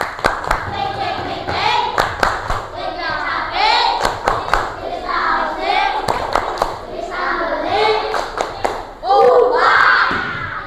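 A group of children claps in quick rhythmic patterns of an Indonesian clapping chant, alternating with chanted voices and shouts; sharp, close hand claps punctuate the lively chanting.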